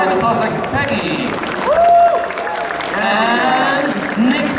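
Audience applause and cheering at a Comic Con panel in Brussels, a dense crowd wash that swells midway, mixed with voices and chatter throughout.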